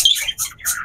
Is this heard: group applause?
no